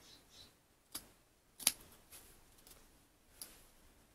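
Scissors trimming excess washi tape on a planner page: a few faint, crisp snips and ticks spaced across a quiet moment, close up with no talking.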